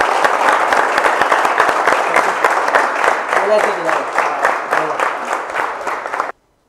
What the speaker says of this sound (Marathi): यांच्या प्रोजेक्टसाठी परत एकदा आपण टाळ्या वाजवल्या